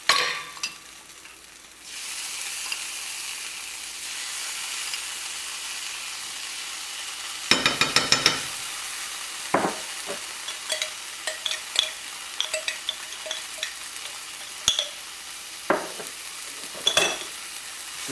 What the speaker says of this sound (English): Now I'm going to put another 3 tablespoons of the tikka sauce and fry this